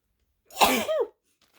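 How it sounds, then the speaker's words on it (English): A single sharp sneeze bursts out close by, a quick intake and explosive release lasting under a second, then quiet. "I think I'm going to sneeze."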